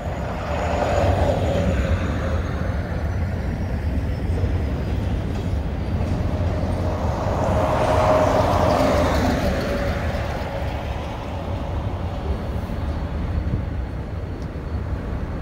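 Freight train, locomotive ELS 502 pulling four gondolas, rolling north past a Wisconsin switching area; steady loud rumble of wheels and cars throughout, swelling as it passes close, with a faint high squeal, no talk.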